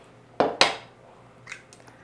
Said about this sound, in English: Now I'm going to crack 2 eggs into the batter.